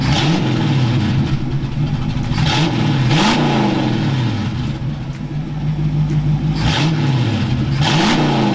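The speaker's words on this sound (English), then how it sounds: "Now time for some revs." A 1968 Ford Mustang engine is revved close up in several rising and falling bursts over a rough idle, with no talking.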